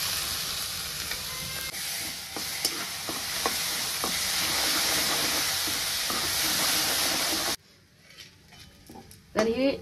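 Freshly grated coconut roasts in ghee with a loud, continuous sizzle and scattered stirring scrapes. The sizzle drops abruptly to a quieter hiss near the end, where a voice is heard briefly.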